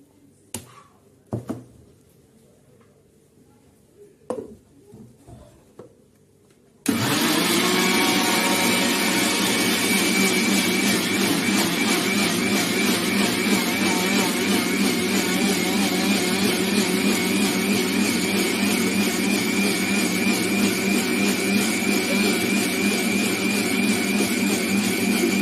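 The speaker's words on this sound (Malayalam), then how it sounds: "ഇത് നമുക്ക് ഈ ചാമ്പങ്ങയും പഞ്ചസാരയും കൂടെ നമുക്ക് മിക്സിയുടെ ജാറിലേക്ക് ഇട്ട് കൊടുക്കാം." After a few quiet knocks, a kitchen mixer grinder starts abruptly and whirs loudly and steadily, blending rose apple with sugar and water in its jar, with a continuous motor drone and churning until the end.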